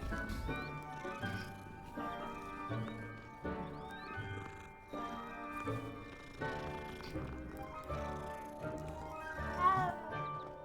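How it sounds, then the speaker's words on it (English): Cat meowing in the Hogwarts Legacy video game, short calls set among background game music with sustained tonal layers, moderately quiet overall. "another kitty cat"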